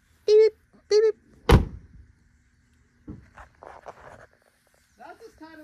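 Two short electronic beeps, then a loud solid thump of a car door shutting, followed by people talking nearby.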